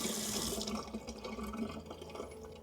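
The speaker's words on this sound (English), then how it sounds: "The water was leaking like in between through here." Water spills and hisses steadily from a loose chrome on-tap digital water filter adapter on a faucet, loudest at the start and then settling into a softer, continuous trickle.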